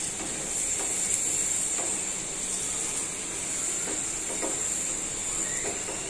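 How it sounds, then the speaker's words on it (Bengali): Chapra frying in a pan, a steady faint sizzling hiss throughout with a few soft clicks and shifts, close by and without talk. "ভাজা হইতে থাক"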